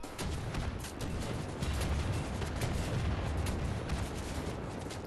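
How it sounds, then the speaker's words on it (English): Rocket fire in the shooter game Wolfenstein: The New Order, a dense, continuous roar of booming blasts and explosions with rapid crackling bursts, loud and sustained without talk. "I'm shooting rockets in your face."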